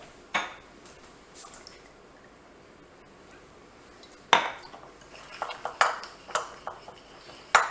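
Garlic granules, smoked paprika and olive oil stirred together in a bowl, with sharp spoon clinks against the dish, one near the start and a cluster of repeated taps and scrapes toward the end, over a quiet background.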